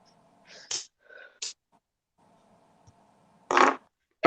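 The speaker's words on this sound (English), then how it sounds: "Did you fart?" A short, sharp fart sounds close by amid a few other brief bodily noises and soft rustles in a quiet room, with no talking.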